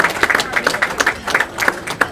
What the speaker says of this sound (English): let's give a round of applause to all of our Special Achievement Award winners for the 2020-21 season